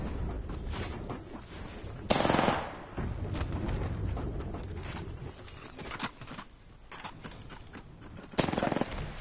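Video game gunfire rattles in bursts, loud sharp volleys around two and eight and a half seconds with steadier shooting and a voice underneath.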